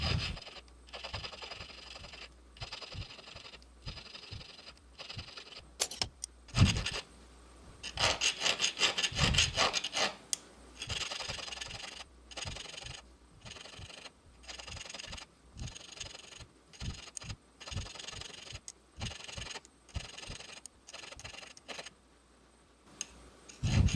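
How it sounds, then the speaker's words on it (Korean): Steady rasping strokes of a hand file smoothing a soldered joint on a silver bead ring, a dense run of close rubbing scrapes with a faster, brighter burst partway through and no talking. "땜된 이점 부위를 다듬어 주겠습니다"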